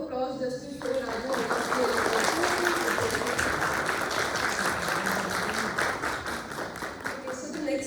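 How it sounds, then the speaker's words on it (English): An indoor seminar audience bursts into applause, many hands clapping densely and steadily for several seconds close by, with a voice heard over it at the start and end. "Another round of applause just to show Raju."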